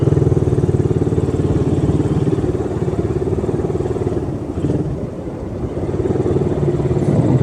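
A motorcycle engine idles and putters steadily close by, a continuous low rumble with slight rises and dips, like slow movement through heavy traffic squeezing past buses.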